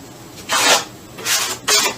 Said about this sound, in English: by scraping the excess off on my trowel